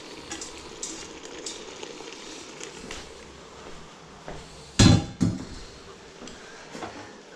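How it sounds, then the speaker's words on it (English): Pasta is stirred through a veggie sauce in a hot pan, with a soft steady sizzle under scattered scraping and clattering, and two louder spoon knocks against the pan partway through. "So I'm going to give it a nice big stir."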